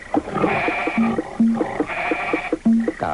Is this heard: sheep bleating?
yes